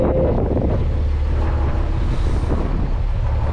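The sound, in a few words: wind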